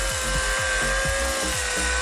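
A power drill fitted with a cleaning attachment runs steadily and close by, a constant loud whine with a rhythmic low pulsing as the attachment spins against a surface.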